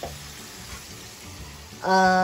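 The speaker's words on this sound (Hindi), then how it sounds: "हमने तड़का बघार जो भी कहते हैं आपको इस स्टेज पे दिखा दिया।" Tadka tempering for sambar sizzles in hot oil, a soft crackle that jumps to a loud, bright hiss near the end.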